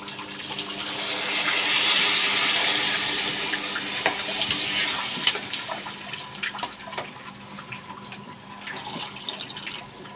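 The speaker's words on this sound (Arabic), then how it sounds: "ننزل عليه بشويه ميه" Water poured from a tap into a cooking pot while making rice, a steady hissing splash that swells and then fades into scattered drips and clinks.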